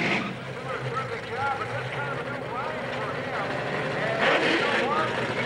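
A 1969 Chevrolet Camaro drag racing car idles and revs unevenly with carburetion trouble, a rough, sputtering engine note held steady at close range amid a noisy drag strip crowd.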